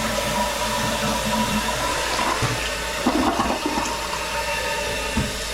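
A toilet with a newly fitted flapper flushes in a town home, a loud, sustained rushing swirl of water that keeps draining and gurgling throughout, with no talking.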